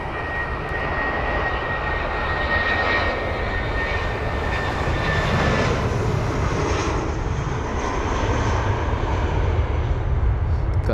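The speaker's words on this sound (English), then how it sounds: "Now the BA380 actually looks like it's going to be next to depart." British Airways Airbus A380 departing Heathrow, a steady loud roar of big jet engines holding for the whole stretch with a faint high whine on top, no talking.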